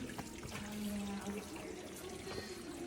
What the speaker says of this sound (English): Hear the water